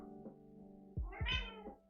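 A cat meows several times in quick succession, loud and close, with rising and falling cries over a faint steady hum in a quiet room.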